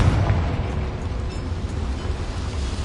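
A Confringo fire spell exploding inside a small mine in the video game Hogwarts Legacy, heard as a deep, rumbling blast whose roar stays heavy and sustained, then slowly settles. No one speaks.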